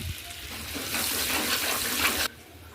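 A splash of water hits spiced masala with chilli powder in a hot pan for a potato and prawn curry, sending up a loud, hissing sizzle that swells for about a second, then drops abruptly to a quieter simmer.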